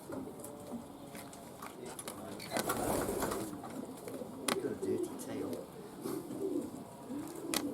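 Racing pigeons coo in a small breeding loft, low soft calls repeating in short bursts amid rustling, shuffling and faint tapping, with occasional nearby clatter.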